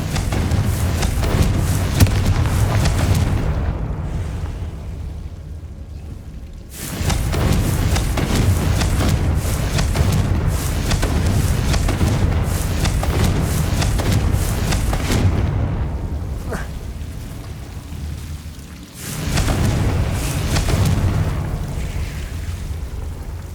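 Confringo blasting spells exploding in Hogwarts Legacy: long, heavy, roaring booms that rumble continuously for many seconds, with a few brief dips before the next blast swells back in.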